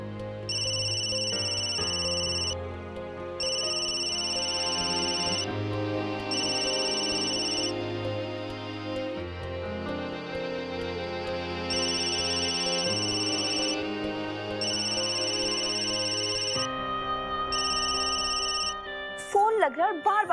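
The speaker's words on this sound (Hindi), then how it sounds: "वो अब रिंग हो रहा है लेकिन कोई उठा नहीं रहा" A phone ringtone plays a repeating electronic melody for a long stretch, steady and unanswered, ending with a brief click.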